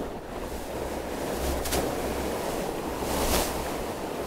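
Fast-flowing river water during fly fishing, a steady broad rushing wash with no pauses, fairly loud and close, with a couple of brief louder surges and no talking.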